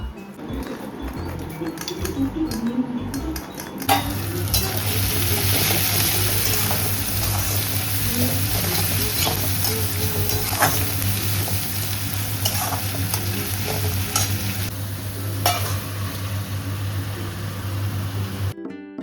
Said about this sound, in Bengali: তো মাংস আমার কষা হচ্ছে।